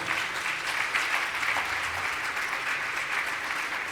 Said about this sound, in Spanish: Denle un aplauso a Cristo.